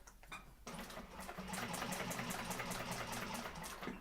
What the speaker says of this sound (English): So I'm basting this bottom and then going in with my 1/8 of an inch seam allowance top stitch.